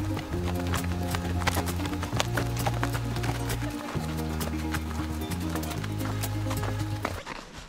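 Horses walk along a Chaquiñán trail, their hooves clip-clopping in a brisk, close rhythm under a loud, steady tonal music-like hum throughout.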